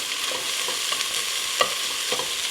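Onions stirred and frying in a pot, a steady broadband sizzle with occasional scraping clicks of the spoon, close and fairly loud, no talking.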